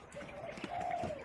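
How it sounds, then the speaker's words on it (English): Caged birds on shelves in a home aviary cooing softly, a faint low warble rising in the middle with quiet rustling around it. "All the birds that were on that middle shelf have been combined with this top shelf here."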